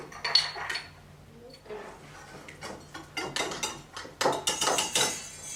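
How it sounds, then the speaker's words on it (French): Egg and butter being mixed in a bowl for American-style cookies, a series of irregular clinks and scrapes of a utensil against the bowl, close and growing busier toward the end. "On mélange bien l'œuf avec le beurre, doucement pour qu'il y en ait un peu partout."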